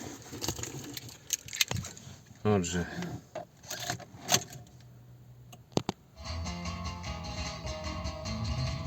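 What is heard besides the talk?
keys jangling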